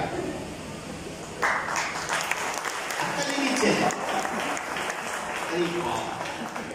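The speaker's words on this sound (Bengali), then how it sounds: "হাততালি দিলেন কেন?" A seminar audience breaks into applause, a steady patter of many hands clapping that continues under a speaker's voice.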